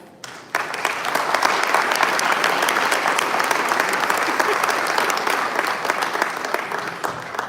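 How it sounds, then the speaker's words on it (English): Sustained applause from a crowd at a town hall, loud and steady after a brief quiet start, with dense clapping continuing to the end. "Can we get Peggy and our vendors another round of applause?"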